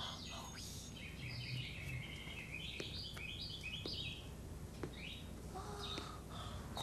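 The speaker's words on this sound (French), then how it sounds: "Et moi, j'ai jamais entendu un oiseau chanter aussi bien." A white bird sings from a pine branch, its bright chirping phrases repeating steadily over a faint hissing background, fairly quiet and unaccompanied by talk.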